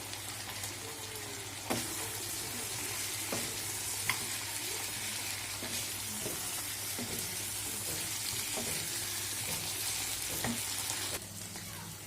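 Meat sautés with meat masala in a pan, producing a steady soft sizzle with a low hum underneath and intermittent taps and scrapes of a spatula, fairly faint and without voices.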